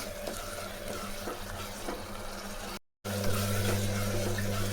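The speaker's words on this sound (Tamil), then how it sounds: "இதுக்கு 2 டம்ளர் தண்ணி ஊற்றிக்குங்க" Water is poured into a cooking pot of tomato kuzhambu, two tumblers' worth, with a steady, soft splashing stream that briefly cuts out and then resumes.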